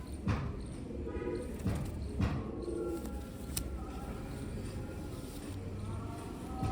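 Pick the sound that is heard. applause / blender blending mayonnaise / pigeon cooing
pigeon cooing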